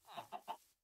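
Three short clucks from a chicken in the video game Minecraft, evenly spaced and fairly close, heard alone in a cute little village with no talking over them.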